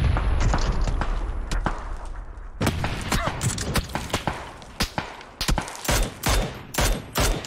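Rapid bursts of gunfire in a PUBG match crack out loud and close, with clusters of sharp shots and short gaps between volleys.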